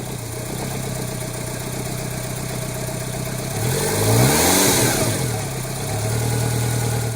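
A small Daihatsu Cuore Avanzato TR-XX R4 engine, first start after 13 years without an oil change, idles roughly and unevenly nearby, revving up briefly mid-way before settling back into a loud, lumpy running drone.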